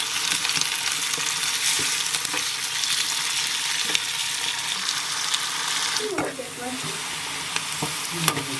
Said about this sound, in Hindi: तेल अभी अच्छे से गर्म हो गया है, इसमें हम फ्राई कर लेंगे प्याज।